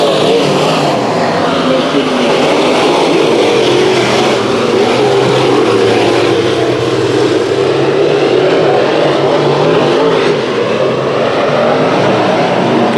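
A pack of Sport Mod race cars roars around Santa Maria Speedway during a heat race, a loud, continuous blend of engines passing close without a break.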